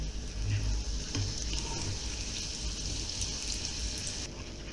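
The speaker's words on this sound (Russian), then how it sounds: "Пирожки выкладываем шовчиком вниз. И жарим на небольшом огне." Pirozhki frying seam-side down in vegetable oil in a pan over low heat, giving a steady, close, continuous sizzle with faint crackles throughout and no talking.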